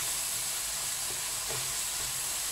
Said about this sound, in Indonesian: Terus kita tumis sampai si bumbu ini itu ya